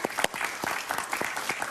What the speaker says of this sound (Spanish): Aplausos para Pedro, por favor.